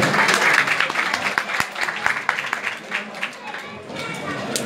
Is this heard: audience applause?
yes